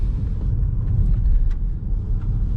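A 2020 Nissan Juke Tekna with a 117 HP engine drives at low speed through a small village, giving a steady, loud cabin rumble of engine and road noise with no talk.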